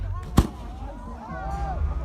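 Fireworks set off before the big rockets at a Lao rocket festival: one sharp loud bang followed by crackling and whistling trails amid crowd noise and talk.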